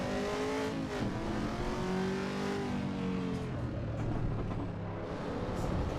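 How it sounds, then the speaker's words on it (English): Race car engine in the Assetto Corsa Evo racing game, loud and continuous throughout, with pitch sweeping up and down as the revs rise and fall through gear changes. "when the car is idling and you're in the low RPM band, it definitely does sound digital"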